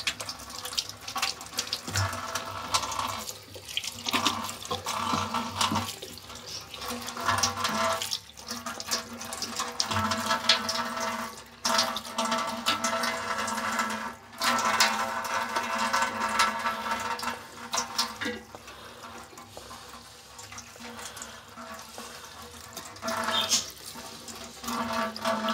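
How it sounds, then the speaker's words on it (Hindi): Tap water runs into a kitchen sink as salad vegetables for raita are washed. A continuous, fairly close splashing flow shifts in intensity as the vegetables are moved under the stream. "हम जो है सब्जियां जो लाए हैं उनको भी साथ हम ऐसे धो लेंगे अच्छी तरह"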